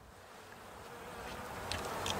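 Honey bees hum steadily at an opened hive during a spring inspection, a dense continuous drone with a few closer buzzes passing near the end.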